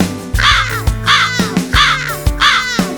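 A crow caws four times in a steady rhythm, loud and close, with no other sounds around it.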